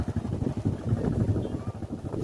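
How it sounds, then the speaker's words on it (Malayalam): Wind sweeps across open paddy fields, buffeting the microphone in a rough, gusty rumble that pulses unevenly for a couple of seconds. "നല്ല കാറ്റ്."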